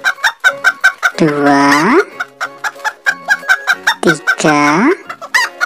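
Chickens cluck repeatedly in a garden, with sharp rhythmic clucks and two drawn-out rooster-like calls, close and loud, while a voice counts aloud in Indonesian over them.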